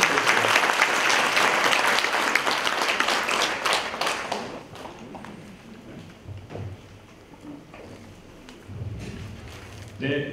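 Audience at a public debate forum clapping warmly to welcome a speaker, loud dense applause that fades out after about four seconds, leaving scattered claps and room noise.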